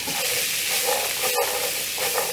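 Sweet potato pieces frying in bacon grease in a pan, giving a steady close sizzle and hiss with a small clatter partway through.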